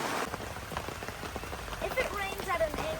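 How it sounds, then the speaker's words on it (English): Rain falls steadily on a drenched campsite and tents, with continuous patter and droplets close by. "It's raining everywhere"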